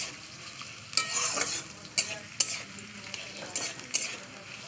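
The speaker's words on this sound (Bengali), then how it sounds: "পেঁয়াজটা লাল করে ভেজে নেবো" Chopped onion fries in hot oil until browned under a gentle sizzle. A spatula scrapes the pan in a handful of sharp, separate strokes, close up, with no speech.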